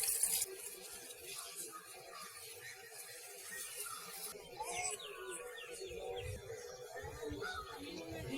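Water runs steadily into a filter box that feeds water to a Buddha tree. The trickle and splash go on for the whole stretch at moderate loudness, with no voices.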